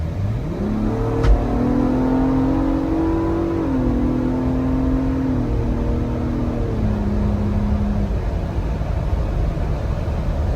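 Ford Bronco Raptor accelerating hard on a test pull, a loud close engine roar climbing steadily in pitch through the gears with a couple of brief shift dips, sustained for about ten seconds.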